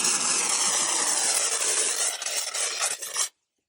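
Cleaner is forced through an expanding-foam spray gun, producing a loud, steady close-up hiss and sputter that lasts about three seconds before cutting off abruptly into silence.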